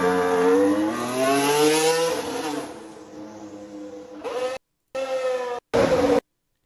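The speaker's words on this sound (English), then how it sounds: "I still have to get used to the sound of a McLaren engine, the Mercedes engine in the McLaren again." A McLaren MCL35M Formula 1 car with a Mercedes engine heads out onto the track at pre-season testing, its loud rising engine note sweeping up then fading, followed by choppy bursts of engine sound with abrupt gaps.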